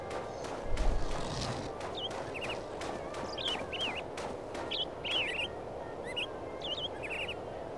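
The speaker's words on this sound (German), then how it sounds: "Sehe wohl Vögel, ich höre Vögel" Birds chirping in the video game Go Vacation: short, high, bright calls repeat in scattered bursts over a steady ambient background, moderately loud and with no one talking.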